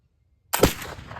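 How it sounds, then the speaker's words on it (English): A single black powder shot using homemade Wonder Bread charcoal powder: a sharp, loud report bursts out of near silence and trails off into a short, fading rumble. "So this is our Wonder Bread powder. Shot number 1."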